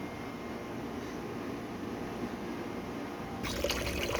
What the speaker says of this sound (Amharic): እኔ ውሃ ፈሰስ አደረኩበት